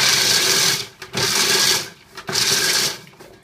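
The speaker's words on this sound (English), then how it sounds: "And I'm gonna grind this walnut." Walnuts whirring in an electric grinder in three loud bursts of roughly a second each, separated by short pauses, with a gritty, rattling buzz close to the microphone.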